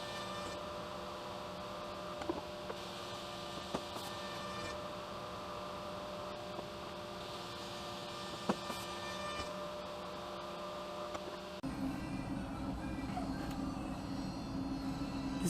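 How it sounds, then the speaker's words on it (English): An SCMI Olympic 360 edge bander feeds laminate bench tops and bottoms while applying 1mm PVC edge banding, producing a continuous mechanical hum and whir with faint ticks, shifting in tone near the end. "using the edge bander to edge band the parts"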